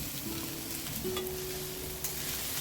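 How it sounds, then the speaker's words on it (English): Garlic sautés in a pan with a steady, close sizzle that continues through the short clip, along with faint hints of stirring. No speech. "while you are sauteing garlic, make sure that you're constantly stirring."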